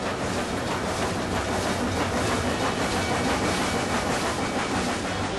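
A steam locomotive rolls past with a dense, steady rumble and hiss, loud and close, with faint rhythmic clatter of wheels on rails running unbroken throughout.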